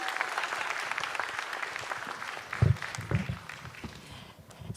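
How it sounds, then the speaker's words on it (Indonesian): After a stand-up comedy set in a comedy competition, the audience applauds steadily at moderate distance, with a few sharper bumps and louder claps partway through before it eases off slightly. "Sekali lagi tepuk tangan untuk Dokter Saga."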